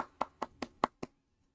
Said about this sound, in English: Nice little round of applause here